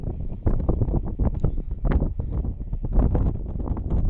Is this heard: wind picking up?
yes